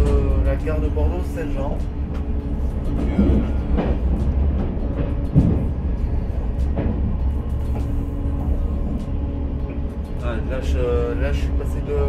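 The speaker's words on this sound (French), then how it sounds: "je suis dans le TGV nuit" Steady low rumble of a French TGV night train running on rails, a continuous rolling drone with faint clicks, heard from inside the carriage while someone speaks over it.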